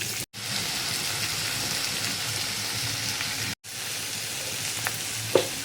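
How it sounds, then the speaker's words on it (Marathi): Chopped tomatoes and garlic cook in a pan on a low gas flame, giving a steady, close sizzling hiss that runs on without pause except for two brief dropouts. "आता लगेचच टोमॅटो सुद्धा टाकून घ्यायचे, लसूण टाकायचं आणि याला ना मस्त असं शिजू द्यायचं आहे आपल्याला."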